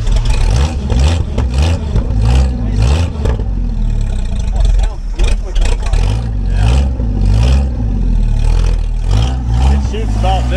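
Engine of a 1976 AMC Pacer running, a loud, rough low rumble with pulsing idle surges throughout, while a person talks over it close by.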